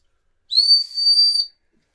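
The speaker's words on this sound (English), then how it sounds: "the half-time whistle went" A single sharp, high-pitched referee's whistle blast, steady and about a second long, with a slight dip midway, heard alone against silence.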